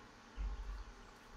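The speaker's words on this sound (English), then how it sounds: "Shame about that buzzing beehive, though." A beehive in the King's Quest video game gives a low, steady buzzing drone that swells briefly, heard alone at moderate volume.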